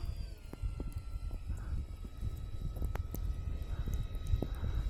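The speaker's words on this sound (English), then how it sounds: "The Twinbird is a good flying plane." A radio-controlled Twinbird model plane flies a touch and go in wind and light snow, its thin electric motor whine faint and distant above steady gusting wind rumble.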